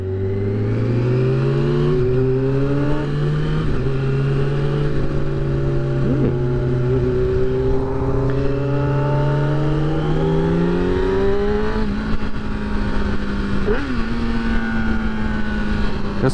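A 2009 Kawasaki ZX-6R motorcycle engine revs steadily through the gears while riding, its pitch climbing and dropping at each shift in a loud, close, continuous whine with no talking.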